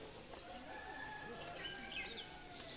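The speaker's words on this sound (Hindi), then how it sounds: "ये तो मुझे लग रहा है कि मुर्गी का ही कोई प्रजाति है" Faint clucking from a chicken amid a low outdoor hum in Butwal, Nepal, with a few soft bird calls mixed in.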